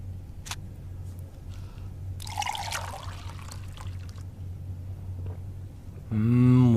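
Running water splashes and trickles from a tap as a character takes a drink in the video game Indigo Prophecy, brief and fairly quiet over a low hum, ending in a louder tonal sound.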